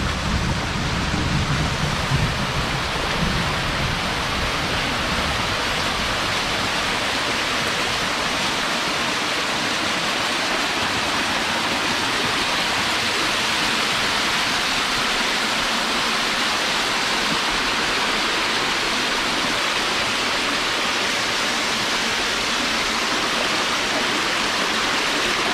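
Heavy rain pours steadily over a forest stream, a dense, unbroken wash of falling water and rushing current that stays loud and even throughout, with no voices.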